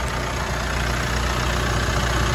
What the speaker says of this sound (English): As you can hear, you've got the car running at the moment, so at least you know it's got an engine and it works.